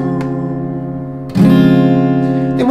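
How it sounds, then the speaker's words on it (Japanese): An acoustic guitar rings out a major seventh chord, strummed once and then strummed again more strongly a little over a second later, sustaining loud and close with no talking. "これはこのメジャーセブンスの響きですね。"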